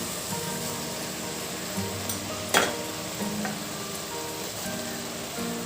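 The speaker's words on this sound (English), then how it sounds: "Once the mushrooms get into the masala, we can add 1 handful of mint leaves" Mushrooms and mint leaves sizzle in masala in a pan, a steady close frying crackle with a sharp stir or clink partway through and softer stirring scrapes.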